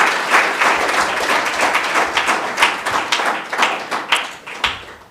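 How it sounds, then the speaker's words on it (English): An audience at a built-environment panel discussion gives the panel members a round of applause, a continuous patter of many hands with individual claps standing out, slightly uneven and fading toward the end. "Can we please give them another round of applause?"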